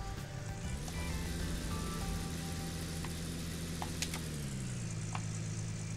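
A heavy machine's engine in the mining game Gold Rush cranking and catching, settling into a steady, loud low droning idle that dips in pitch toward the end, with a couple of faint clicks over it.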